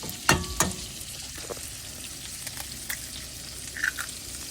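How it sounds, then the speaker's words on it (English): Cheeseburgers with melting cheese cooking in a skillet, giving a steady low sizzle and crackle with a few sharper pops near the start. "We like our burgers done, so I'll let these cook a few more minutes and let the cheese melt."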